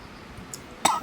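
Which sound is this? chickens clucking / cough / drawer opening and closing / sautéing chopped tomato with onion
cough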